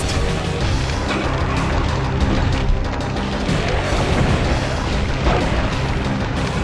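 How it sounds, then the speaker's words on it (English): Seeker Wand blasts in the dark fantasy shooter Hexen, with homing magic shots fired as a battle plays out. A dense, continuous wash of booming, crackling impacts and bursts stays loud and unbroken throughout. "the Seeker Wand lives up to its name in that the shots home in on the target"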